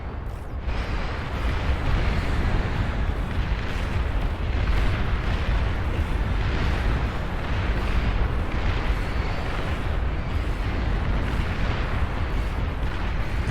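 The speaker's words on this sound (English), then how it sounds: "Beautiful sight of explosions." Dense, continuous rumble of explosions from the real-time strategy game Beyond All Reason, with deep booms and bursts overlapping steadily at a loud level for the whole stretch, no voices.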